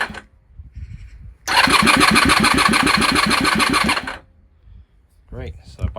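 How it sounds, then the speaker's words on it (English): Honda VFR400 NC30 motorcycle engine under restoration cranking over on the starter, a loud rapid mechanical churning for under three seconds, then stopping; someone speaks briefly afterward. "Great, so the bike is turning over, which is a good sign."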